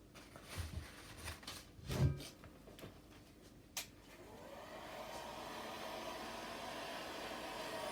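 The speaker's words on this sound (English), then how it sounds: "Now I'll use my heat gun." A heat gun blowing over a resin art pour, a steady airy rush that starts near the middle and holds evenly to the end, after a few quieter clatters and knocks.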